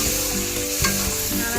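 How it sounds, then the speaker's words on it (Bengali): Lentils for dal makhani poured into a hot pan, setting off loud, close sizzling and frying, with the scrape and clatter of stirring running through the whole stretch and no talking. "ডালটা ঢেলে দিলাম"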